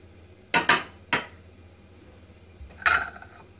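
Slices of zucchini go into a cooking pan in a home kitchen, making a few sharp metallic clinks and knocks, three close together and then one more after a short pause.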